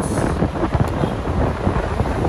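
Steady, rumbling wind buffeting the microphone, a continuous low roar with gusty swells throughout and no voices.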